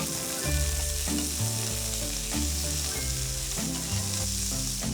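Sardines fry in a pan for a gluten-free fettuccine dish, a steady close sizzle of hot oil running without pause, with faint stirring and background music underneath.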